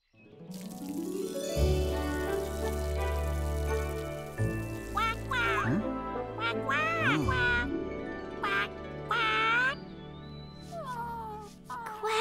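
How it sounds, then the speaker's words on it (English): Cartoon sound effects and music for a children's animated show, with squeaky, warbling honks and sweeps like a cartoon duck quacking, heard over a sustained musical backing. "Quack, quack."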